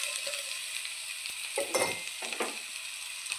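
Bitter gourd and garlic sizzle steadily in a hot pan, a continuous close frying hiss with a few louder bursts as the pieces are stirred, and no voices.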